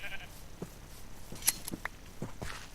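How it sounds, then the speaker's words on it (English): A sheep in a video game gives several short, quiet bleats, spaced out among soft footsteps and small game sounds. "There's a sheep, there's a sheep"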